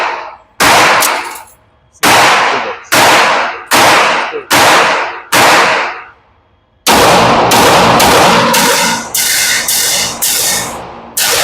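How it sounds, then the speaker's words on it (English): Pistol fire from a 2011 or 1911 at the range. It starts as a run of loud, sharp single shots about a second apart, then turns into a rapid string of closely spaced cracks, all very close and loud. "So it's just run a quick mag through it."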